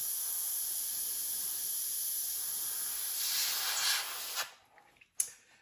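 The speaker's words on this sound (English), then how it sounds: "I'm just barely letting paint come out of the my airbrush here" An airbrush sprays thin paint onto a 1/48 scale GI Joe Skystriker model kit, giving a soft, steady hiss that cuts off, followed by a couple of brief puffs.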